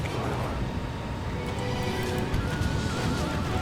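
Horses of mounted horse archers in a video game battle, whinnying amid a dense, continuous roar of combat noise, with hooves and clashes blending into the steady din.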